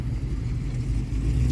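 Classic cars roll past at the Goodwood Breakfast Club show, among them a Ford Mustang GT350 and a Chevy pickup, giving a steady, fairly close low engine rumble that holds for the whole moment with no talk over it.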